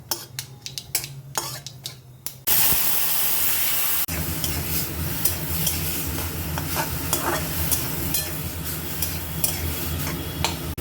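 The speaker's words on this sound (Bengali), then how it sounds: "আর দিচ্ছি একটু সর্ষে এবারে গ্রেট করে রাখা আনারসটা আমি দিয়ে দেবো" Grated pineapple and mustard seeds frying for a chutney: brisk spoon scrapes and clinks against the pan at first, then a loud burst of sizzle that settles into continuous frying with repeated stirring clatter.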